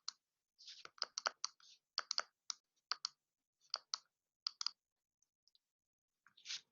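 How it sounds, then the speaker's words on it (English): Quiet clicks of typing on a computer keyboard come in irregular bursts of keystrokes, with brief pauses between groups. "I'm going to type this in"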